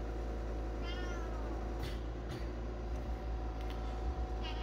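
A sick cat suffering from AIDS gives a faint, drawn-out meow early on, set against a steady low indoor hum with a few soft knocks and rustles.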